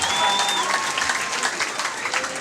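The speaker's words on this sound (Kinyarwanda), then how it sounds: "komera amashyi mwambitse" A church congregation claps together in sustained, fairly loud applause, a dense rattle of many hands that holds steady throughout.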